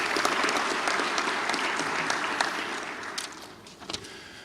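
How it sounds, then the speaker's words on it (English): Audience applause fills a high school gymnasium or hall at a National Honor Society induction, a steady, full roar of many hands clapping that gradually thins out toward the end with a few last scattered claps. "join me in giving them all a round of applause"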